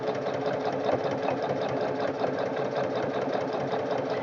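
A Singer Quantum Stylist 9960 sewing machine with a braiding foot stitches steadily, a close, continuous rapid whirring hum with fine rhythmic needle clatter and no voices.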